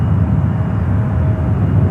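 Airliner lining up on runway 8 left at San Francisco airport, a loud continuous jet engine rumble and whine heard from a distance, steady throughout with no voices.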